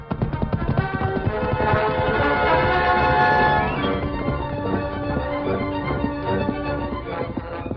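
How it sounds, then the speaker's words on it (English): A steam train sound effect in an old western radio drama, with a loud rolling chug and sustained whistle blasts as the train races down a mountainside, alone without voices. "Racing toward the oncoming train that had already started down the side of Bald Mountain, the Lone Ranger"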